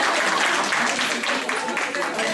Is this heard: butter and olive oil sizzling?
no